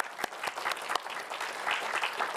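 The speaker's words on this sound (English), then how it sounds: "Clap." Audience applause at the BSFA Awards 2023 ceremony for the nominees, a steady patter of many hands clapping at moderate level with a few sharper individual claps standing out, and nobody speaking.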